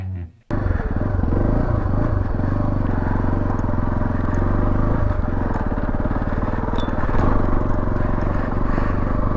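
A Beta Alp 4.0 motorcycle ridden off-road on a green lane gives a loud, close, steady engine drone with a rough throbbing rhythm, starting abruptly after a brief quieter moment.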